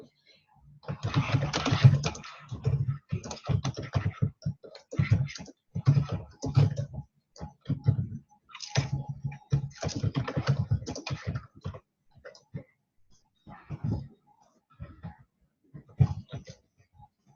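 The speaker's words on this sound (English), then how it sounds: "I'm going to type the question." Typing on a computer keyboard, entering a question during an online teacher practicum session, with bursts of quick key clicks in close, loud clusters separated by brief pauses.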